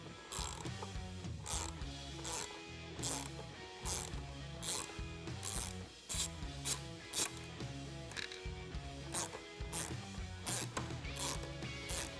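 A hand ratchet clicks in steady bursts as it backs off emblem nuts from plastic studs on a 2015-2017 Ford F-150 grille, close and loud, with no talking.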